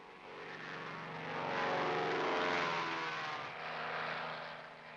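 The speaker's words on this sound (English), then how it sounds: "Helicopters and fixed-wing aircraft as well play a big part in getting me and my buddies to where we're needed." Military aircraft engine droning overhead, a broad steady roar swelling as it nears and passing close, loud and alone.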